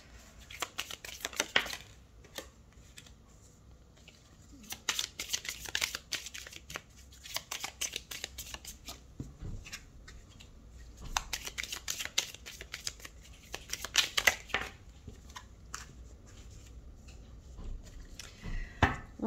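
Tarot cards are shuffled in repeated riffling bursts separated by short pauses, close and crisp, with no talking.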